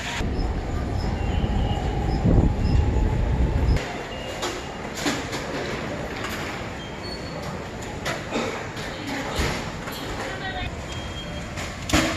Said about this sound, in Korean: 오늘은 도부철도에 승차한다.